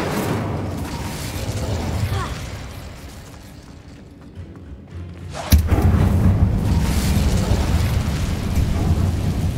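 Incendio fire spell cast in Hogwarts Legacy, a sudden loud burst of flame that erupts after a quieter lull and then keeps roaring steadily; no talk is heard over it.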